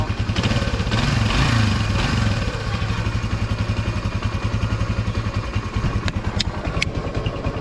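A 1976 Honda XL175 motorcycle runs after a first kick start, unused since the previous year, its single-cylinder engine chugging loudly in a fast, even rhythm with a revving swell early on before settling into a steady idle.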